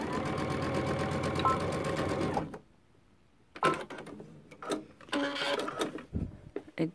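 A sewing machine stitches a Christmas stocking in a steady buzzing run, then stops; after a pause come clicks, handling noises and short bursts of stitching.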